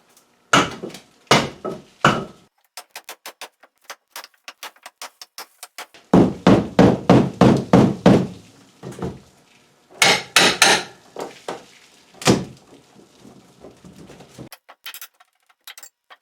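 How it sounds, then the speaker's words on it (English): Hammer blows against a wall sheathing panel, struck from inside a shop to knock it loose: bursts of loud, sharp knocks in quick clusters with short pauses, some rapid and lighter, others heavy and ringing. "So I'm going to try and knock this panel off from the inside here"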